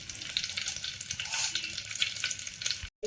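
Fenugreek seeds, cumin and dal sizzle steadily in hot oil in a kadai, a close, bright crackling tempering for a small fish soup, with stirring and no talk.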